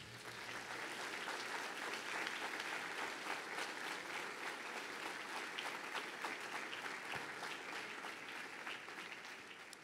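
A church congregation stands and applauds together, a dense, steady wall of clapping held at an even level for about ten seconds with no voices on top.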